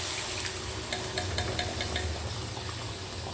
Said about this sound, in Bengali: এবারে যে সেদ্ধ করা ডালটা সেটা উপর থেকে ঢেলে দেবো।